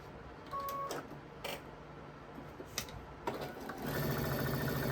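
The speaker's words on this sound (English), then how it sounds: "we are going to sew this one down on this side here." A home sewing machine stitches a quilt border down, its steady mechanical run starting near the end after some handling noises and short bursts, fairly close and clear with no talk.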